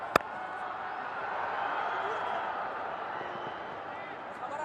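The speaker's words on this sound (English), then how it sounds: "You can barely hear yourself. This crowd is so involved." Cricket stadium crowd during a South Africa versus Afghanistan super over, a dense continuous roar that holds steady throughout, with a sharp thump near the start and a voice talking over it.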